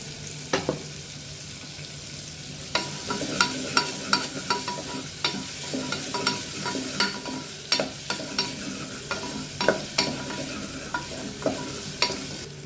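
Onions sautéing with a little salt in a pan for vegetable kurma, with steady sizzling and repeated sharp spatula scrapes and stirs close up, no voices.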